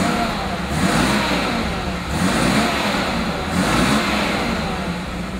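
A 1977 Mercedes-Benz 280SE with fuel injection runs smoothly, its engine rising and falling through a few gentle revs in a steady, close, continuous hum.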